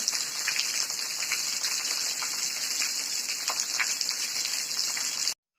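Steady rain falling in a dense Uttarakhand forest, a continuous even hiss of drops on foliage that holds at a constant level before cutting off abruptly at the end, with no voices.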